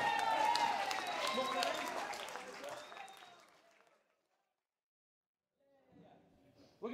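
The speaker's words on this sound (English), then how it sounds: "Let's have a big round of applause." Audience applause at a live concert at a college, a burst of clapping and cheering that fades out over a few seconds into silence before faint sounds return.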